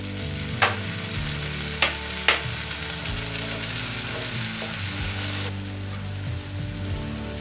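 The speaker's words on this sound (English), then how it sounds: "You have to stir it. And now I'm going to put this chopped tomato." Poha with chopped tomato being stirred in a frying pan gives a steady close sizzle, with three sharp utensil knocks against the pan early on and continuous frying noise throughout.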